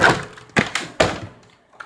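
A spring-loaded door swings shut outdoors, giving a few sharp thuds and knocks in quick succession that fade into a brief quiet tail.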